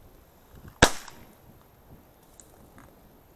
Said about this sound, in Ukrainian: Почув постріл.